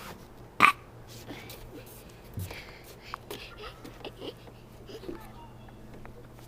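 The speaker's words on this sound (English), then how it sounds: "A 2-year-old that could burp." A two-year-old toddler lets out a single short, sharp burp early on, followed by quiet room noise with a few faint small sounds.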